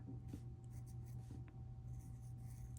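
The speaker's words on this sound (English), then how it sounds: "I'm gonna go ahead and write that on there." Pen writing on a paper page of a stitch sample book, a faint continuous scratching under a steady low hum, with no voices.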